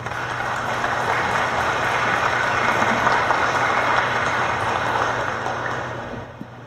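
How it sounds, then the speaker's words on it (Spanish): Steady, dense applause from an audience at a book presentation on constitutional reform, a loud continuous wash of many hands clapping that holds for several seconds before tapering off. "Fuertes aplausos para él."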